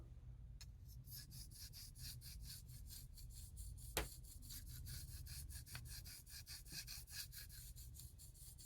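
A knife blade is drawn back and forth across a Belgian coticule whetstone in a long, steady run of quiet, even scraping strokes. One sharper click sounds near the middle.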